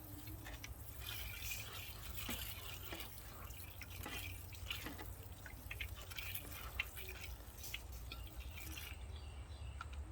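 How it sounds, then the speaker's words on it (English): Water pours gently over soil in a gallon seed-sowing jug, a soft continuous trickle with scattered drips, faint and close. "Hit it one more time with some water."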